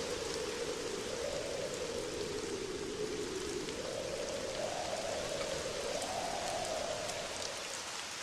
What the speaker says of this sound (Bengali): সেই সকাল থেকে বৃষ্টি হয়েই চলেছে।